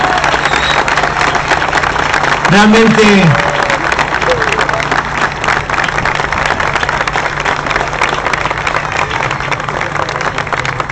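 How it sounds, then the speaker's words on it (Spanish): Audience applause at a political speech, a steady crackle of clapping from a crowd throughout, with a brief tonal sound and a spoken word over it. "un aplauso para todos ellos."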